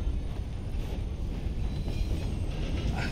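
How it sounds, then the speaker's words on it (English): Train rolling past in the Red Dead Redemption 2 video game, a steady close rumble of heavy wheels on rails with faint clatter, continuous for the whole stretch and with no one talking. "Get out of the damn way, train."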